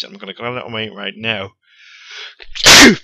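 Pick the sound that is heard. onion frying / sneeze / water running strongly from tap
sneeze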